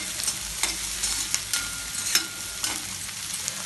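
Chicken masala frying in an iron kadai, a steady close sizzle broken by several sharp scraping stirs of the spoon against the iron pan.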